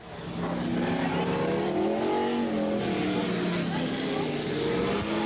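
A 1993 super stock race car heads out onto the oval track at Freedom, its engine droning steadily and loudly throughout with slight pitch shifts. A voice talks over the engine.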